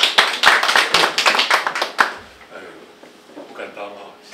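An audience at a northern-region panel of Taiwan's 17th National NGOs Environmental Conference claps warmly to welcome Professor Hsu, a dense burst of many hands for about two seconds that thins into scattered claps and fades out.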